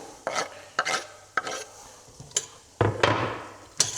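Garlic added to onion and carrot frying in a pan for a cheese soup, with a soft sizzle under sharp clinks and scrapes of a utensil stirring, close and intermittent.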